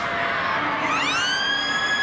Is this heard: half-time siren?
yes